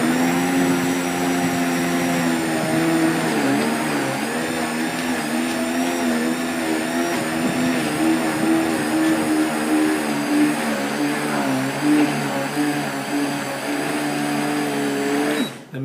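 A Bio Chef Professional blender running on low, whirring steadily as it blends unsalted cashew nuts into a creamy soup, a loud continuous motor drone with a droning harmonic tone for the whole stretch before cutting off at the end.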